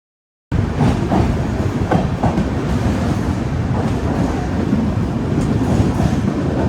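The Mumbai LTT–Hatia Superfast Express passenger train rolls steadily through Maharashtra, giving a loud, continuous rumble with rhythmic clickety-clack from the wheels heard from on board.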